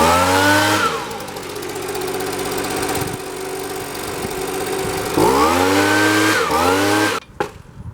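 A Stihl BG65 leaf blower engine, running after a fuel fix, roars loud and steady with a revving rise near the end before cutting off abruptly.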